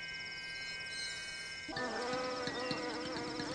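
Flies and other insects buzzing in a garden, a thin steady whine that thickens into several close, overlapping buzzes with rapid wingbeat pulses, loud and alone without speech.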